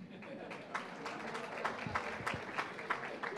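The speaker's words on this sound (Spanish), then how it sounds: "Pues un aplauso para este auditorio." Auditorium audience applause at a lecture, fairly faint and distant, made of scattered individual claps that thicken slightly toward the end, with low murmuring underneath.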